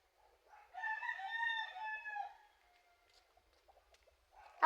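A rooster crows once, a long, clear cock-a-doodle-doo close by in a quiet setting, followed by faint rustling.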